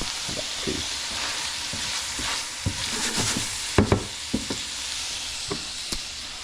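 One-pot chili simmering on the stove, with a steady soft bubbling sizzle and a spoon scraping and knocking against the pot in irregular strokes, close and alone.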